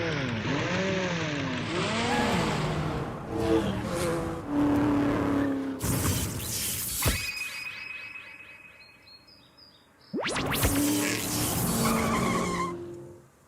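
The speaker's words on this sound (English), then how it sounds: "Those portal sounds, my dude." Cartoonish whooshing and warping sound effects with rising tones and bursts, loud and busy, with a sharp swelling transition partway through and another burst near the end.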